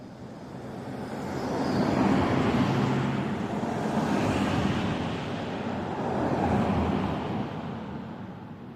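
Cars pass on a road in Gela village in Bulgaria's Rhodope Mountains, a broad swelling whoosh of two vehicles going by in turn, steady and moderately close, with no voices.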